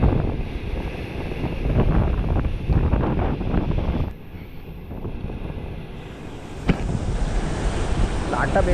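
Rough sea waves crash and wash on the shore where fish are being caught. The surf gives a loud, broadband roar with wind buffeting the microphone, briefly dropping quieter midway before a sharp splash and renewed rushing.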